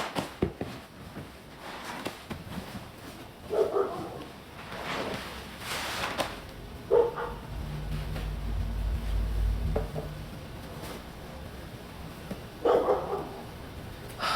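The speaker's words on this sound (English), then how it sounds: "I can't stand dogs that just bark all the time like that." A dog barks at night in a few scattered bursts at moderate distance, with a low rumble and background noise between barks.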